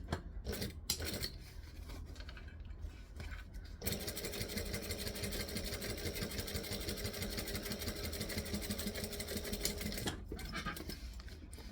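A sewing machine runs steadily for several seconds, stitching a pocket onto a Yoshi backpack, its motor whirring and needle chattering up close, with quieter handling noises before and after the stitching.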